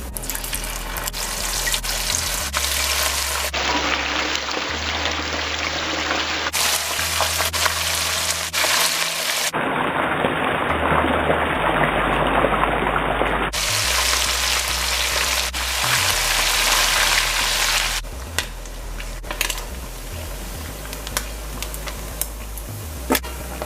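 Small fresh smelt fish frying in oil, a long continuous crackling sizzle with shifting intensity and a few abrupt changes, close-up and loud without talk.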